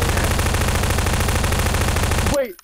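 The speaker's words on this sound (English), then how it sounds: "Y'all are shooting at me" Rapid automatic gunfire in the video game Garry's Mod Prop Hunt rattles loud and continuous in dense bursts for over two seconds, then cuts off abruptly.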